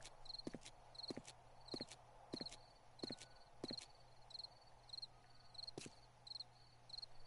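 Crickets chirp in the open-world survival game 7 Days to Die, a steady rhythmic high trill repeating about twice a second, soft and close, alongside regular dull thuds like footsteps.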